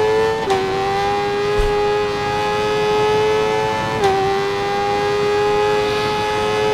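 A 2014 Suzuki GSX-R1000 in the racing game RIDE 4 holds a loud, steady high-rpm engine whine, with two sharp blips where the pitch dips briefly as gears shift, continuing near and alone.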